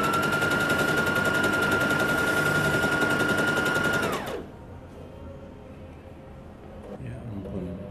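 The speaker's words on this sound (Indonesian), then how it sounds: "Jahit terus keliling." Sewing machine stitching around children's pajama fabric, a loud, rapid, steady mechanical rattle with a motor whine for about four seconds before it stops, leaving quieter room sound and faint handling noises.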